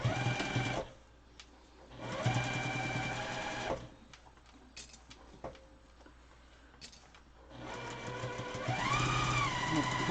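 A sewing machine stitching a fabric mask with elastic, loud whirring runs in bursts separated by pauses and small clicks, starting and stopping as the stitching goes.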